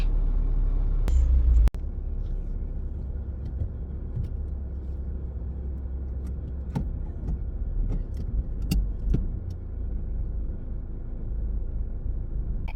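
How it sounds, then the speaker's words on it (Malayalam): A car being driven, heard from inside as a steady low road and engine rumble with a few sharp clicks and knocks over it, with no talking. "അങ്ങനെ ഞാൻ ഡ്രൈവ് ചെയ്യട്ടെ"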